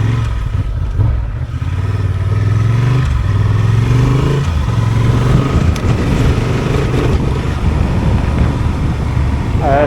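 Adventure motorcycle, a Honda 750 Transalp or Yamaha Tenere 700 World Raid, ridden on a dirt road in third gear, its engine droning loudly and close under a rider's talk, with wind buffeting and gravel clatter.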